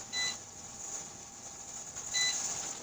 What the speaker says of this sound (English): The beeper is going off.